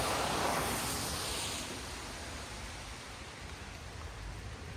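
Steady rain falls outdoors during flower planting, a dense even hiss of drops on surfaces that stays constant and fairly loud throughout, with no voices.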